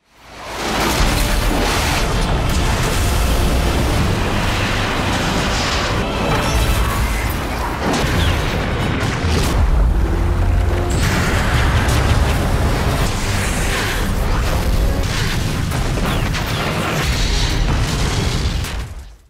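Ballistic missiles blow up in a long, loud barrage of booms, crashes and rumbling blasts from a monster attack, sustained heavy explosions layered with debris and mechanical clatter.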